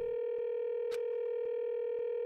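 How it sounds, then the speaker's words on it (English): Phone call in the Danganronpa 2 video game connecting but going unanswered: a steady electronic ringback tone holds throughout, broken by faint regular pulses and one brief burst of noise near the middle. "Ah, sounds like it's connecting to somewhere. But no one's picking up."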